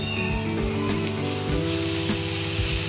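Milk poured into leftover ghee in a hot pan while making basundi, a loud steady sizzle and frying hiss up close that keeps going without a break.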